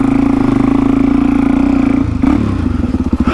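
Motorcycle engine on a hard trail in the Victorian High Country, droning loudly and steadily with a strong low hum, then breaking into uneven pulsing revs near the end as the bike struggles over rough ground.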